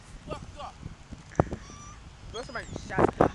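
Birds squawking at a beach, close, repeated harsh honking calls in irregular bursts, some overlapping, mixed with people talking and shouting nearby.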